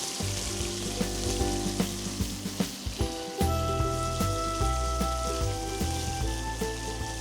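Chicken pieces with ginger and garlic fry in hot oil until golden brown, giving a loud, steady sizzle punctuated by sharp clicks of stirring.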